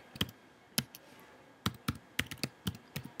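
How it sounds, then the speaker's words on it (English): Typing on a computer keyboard while entering a formula in data-analysis software, a few sharp, close key clicks in an uneven rhythm with brief pauses, alone in a quiet room. "so I'll just type that in"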